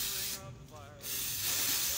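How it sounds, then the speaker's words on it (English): Hairspray from a Bumble and Bumble thickening can misted over cooled hair in a couple of hissing bursts, close and fairly loud, with a short pause between sprays. "You're going to hit it with a little hairspray when it's cooled down."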